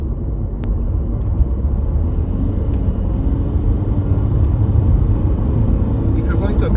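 VW Golf 6 with a 1.6 TDI diesel engine heard from inside while driving, a steady low engine and road rumble throughout.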